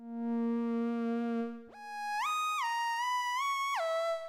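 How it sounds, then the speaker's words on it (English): A theremin-like lead patch on the Vital software synthesizer holds a buzzy, harmonically rich tone, then swoops sharply upward and slides smoothly between pitches with wavering bends, loud and alone. "it sounds actually more like an actual theremin to me"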